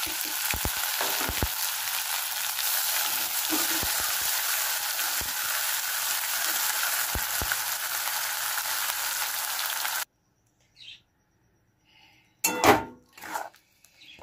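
Cabbage leaf paste with dried chillies fries in a pan, giving a loud continuous sizzle with a few sharp pops before it abruptly stops, followed by brief clatters.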